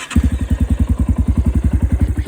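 A freshly rebuilt Honda CRF230 motorcycle engine catches and settles into a steady, loud, close-up idle with an even, rapid thumping beat and a slight mechanical clatter.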